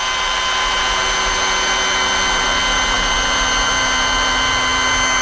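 A rotary polishing machine runs on the painted body of an Alto 800 car at a slow speed setting, giving a loud, steady high whine with a constant motor hum and no talk.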